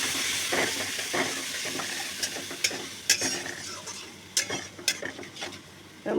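Ground turmeric and cumin spices fry in oil in a pan with a splash of water, making a continuous close sizzle with scattered sharp stirring and scraping clicks, no voices.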